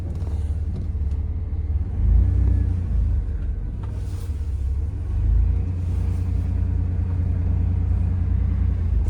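A 1994 Chevrolet S10 Blazer with a freshly rebuilt 4.3 engine drives along, heard from inside as a steady low engine rumble and road drone with a couple of mild swells in revs.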